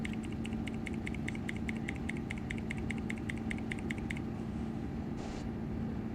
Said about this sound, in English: That's me pressing the R key.